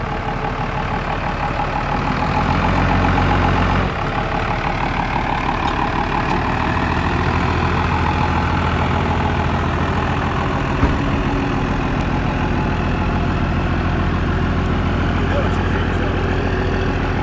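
A 12-valve Cummins 5.9 diesel truck engine idles steadily with a deep, even rumble throughout, close and constant, with a brief air-like hiss partway through.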